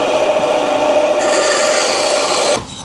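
A bandsaw cuts through a wooden cornhole board with a loud, continuous raspy buzz that holds steady, then cuts off abruptly just before the end.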